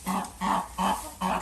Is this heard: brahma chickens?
yes